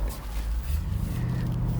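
A BMW M850i 8-Series convertible swerves through a U-turn, its engine giving a low, close rumble that swells and holds steady while the tires and body noise rush underneath.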